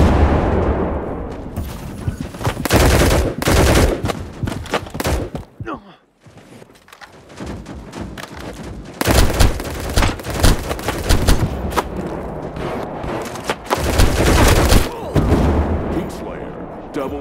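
Gunfire in the FPS video game Battle Prime during a team deathmatch, loud and continuous, with rapid automatic bursts and heavy booms that run almost without a break.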